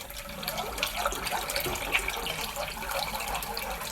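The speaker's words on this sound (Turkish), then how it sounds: "Ve su ilave edeceğim." Water pouring into a pot of yogurt soup, a steady, fairly quiet splashing stream that runs close by for a few seconds without any talk.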